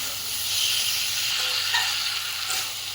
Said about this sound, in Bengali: আলুটা এই যে ভালোভাবে এবারে কষাইটা করে নেব